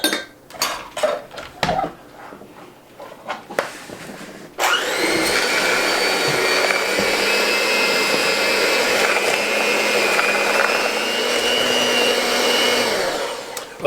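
An electric mixer whirs continuously as fresh ginger is blended into cake batter. A few clinks of bowl and utensils come first, then the motor starts abruptly and drones loud and steady until it winds down near the end.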